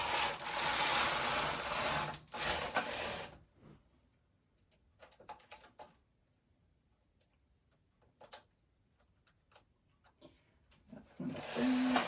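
Knitting machine carriage pushed across a row while partial-knitting a neckline: a loud whooshing, rattling sweep of about three seconds close by, then quiet clicks and small handling noises, with another sweep starting at the end.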